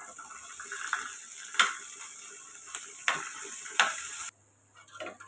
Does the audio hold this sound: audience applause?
no